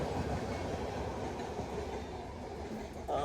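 Janmabhoomi Express running past, heard as a steady, loud roar of wheels and railcars with faint rhythmic clatter, continuous throughout with no voices.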